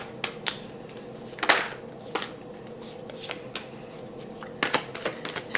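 Tarot cards are shuffled and drawn by hand, a series of crisp riffling and flicking bursts with one longer shuffle in the middle, close and fairly quiet with no talk.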